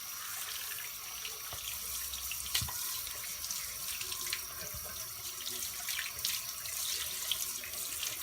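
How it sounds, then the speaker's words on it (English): Tap water runs steadily as a beard comb is rinsed under it, a close, continuous splashing stream with small fluctuations and no voices. "And then we rinse it off."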